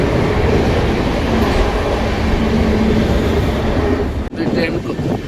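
A passing train rumbles loud and steady throughout, heard from inside a sleeper class coach on the Bhubaneswar to Koraput line, with one brief dip near the end and faint voices mixed in.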